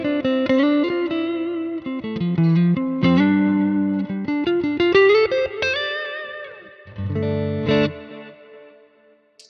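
A clean electric guitar tone, captured from a Quad Cortex preset onto a Nano Cortex, plays a run of ringing notes and chords with a shimmering, chorus-like sheen and light reverb, loud and up close before fading near the end.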